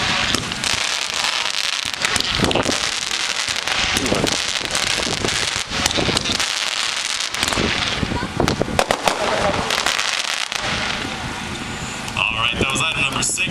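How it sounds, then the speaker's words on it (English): Winda Fireworks Ragin' Red fan mine firing at a 2012 NFA demo, a loud sustained stream of crackling bursts and booms that continues for over ten seconds, with voices faintly underneath. "Item number 6 is a fan mine,"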